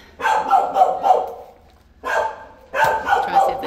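Small male dog, about two years old, in a shelter pen, barking in close, loud, rapid yappy bursts, three separate volleys with short pauses between.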